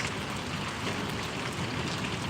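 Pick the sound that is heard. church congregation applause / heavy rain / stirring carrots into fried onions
heavy rain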